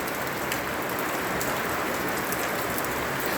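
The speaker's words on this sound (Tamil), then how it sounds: "பார்த்தீங்களா எவ்வளோ மழை ஊற்றுதுன்னு" Heavy rain pours down steadily under a cloudy sky, a dense, loud, unbroken hiss of drops striking surfaces close by.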